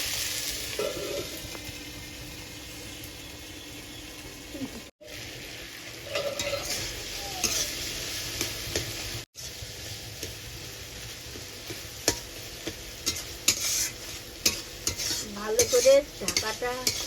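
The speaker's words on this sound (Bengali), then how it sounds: "আমি ভালো করে নেড়ে চেড়ে নিচ্ছি" Shrimp paste being stirred and fried in a pan, a steady soft sizzle with scraping strokes from a utensil, growing busier and more clattery toward the end.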